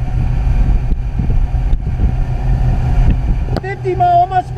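A 2000 Jaws Lorequin 24 center console boat runs flat out at about 4,200 RPM, its engine a loud, steady low roar mixed with wind buffeting, and a voice whoops near the end.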